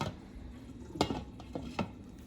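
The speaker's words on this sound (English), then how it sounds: "And then we're going to cover the pot with a lid" Clatter of a lid being set onto a cooking pot of Persian khoresh qaimeh stew, a few close metallic knocks and scrapes spread over a couple of seconds, fairly quiet with no talking.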